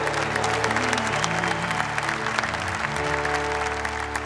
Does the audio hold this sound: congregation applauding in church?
yes